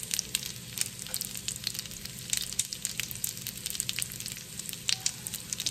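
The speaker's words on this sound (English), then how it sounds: "We're pretty much gonna brown each side for about 2 to 3 minutes." Chicken legs browning in a hot pan, a steady close sizzle with crackling pops running throughout, with no voices.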